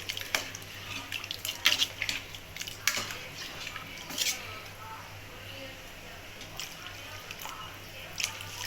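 Water poured into a pressure cooker while making chicken biryani, a soft trickling splash with a few clinks of metal, heard faintly beneath a low steady background hum.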